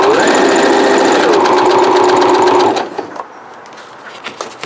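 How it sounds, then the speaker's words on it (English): A Brother computerized sewing machine stitching a single layer of blackboard fabric runs fast and steady, its motor whirring loudly for nearly three seconds before abruptly stopping, followed by quiet handling sounds. "I'm testing the single layer stitch on a Brother computerized sewing machine"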